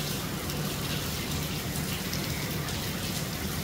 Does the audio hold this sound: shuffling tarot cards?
no